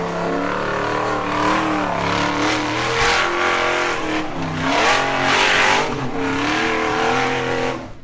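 An off-road Cadillac driven flat out at Hollerwood Off Road Park on a wet, slippery course: a loud engine revs and surges continuously, rising and falling as the throttle works, with brief tire squeal and skidding.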